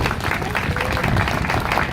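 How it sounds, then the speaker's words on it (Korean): Audience applause at a Korean government event at Gwanghwamun, the closing ceremony of a public transition committee, a dense steady wash of clapping across the whole stretch with no clear speech. "박수 한번 보내주시죠"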